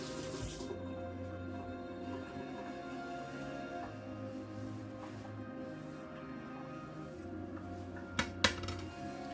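Kitchen tap water running steadily into a sink for a quick rinse during prawn curry prep, a continuous close wash with a few sharp clinks near the end.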